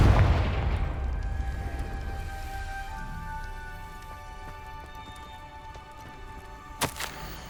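A Confringo spell in Hogwarts Legacy bursts with a deep opening boom that decays into a rumbling, crackling tail, followed by faint lingering tones and a short sharp hit near the end.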